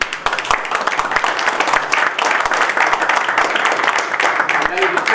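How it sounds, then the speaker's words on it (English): Loud, sustained applause from an audience at a certificate distribution ceremony for trainee inspectors, dense rapid clapping filling the room steadily throughout. "I request all of you to big applause for the guests"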